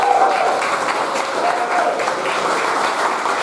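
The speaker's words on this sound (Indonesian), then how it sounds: "kita kasih tepuk tangan bagi teman kita" A classroom audience of students claps for a classmate, a steady, dense patter of applause filling the whole moment, moderately loud with faint background murmur.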